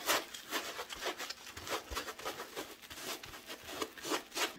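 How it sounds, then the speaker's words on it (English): Sanding the fabric upholstery of a chair with a 100 grit sanding sponge: steady back-and-forth rasping strokes in a quick, even rhythm, close and fairly loud, with no talking. "then we're just gonna go through and sand it"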